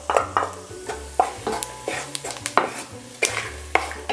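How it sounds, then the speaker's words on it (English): Whole and ground spices, cardamom, coriander, chili, cumin, turmeric, pepper and fennel seeds, stirred quickly in a hot pan for biryani: a series of short scraping strokes with light sizzle and a few clinks, close and alone. "Give it a few quick stirs."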